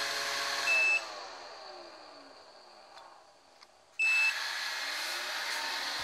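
A robot vacuum cleaner roams over carpet, its motor humming steadily while short electronic beeps and tonal chirps sound at the start and again near the end, the whine dipping quieter in between.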